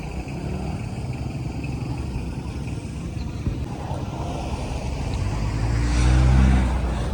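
Road traffic rumbles steadily along the Mirpur–Kotli road in Azad Kashmir, a continuous engine drone from passing cars and motorcycles that swells as a heavier vehicle draws near toward the end.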